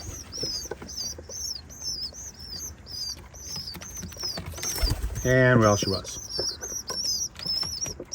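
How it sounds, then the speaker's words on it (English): Pigeon mother and two squabs in a farm coop, with repeated chirps and soft bird calls throughout, brief wing flutter near the middle, and a person talking over them. "So there's the 2 of the pigeon babies."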